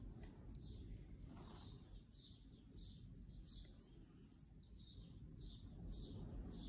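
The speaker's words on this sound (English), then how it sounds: "Those starlings, sparrows are so noisy." Starlings and sparrows chirp outdoors in a rapid, repeated series of short calls, moderately close, over a low rumble of wind.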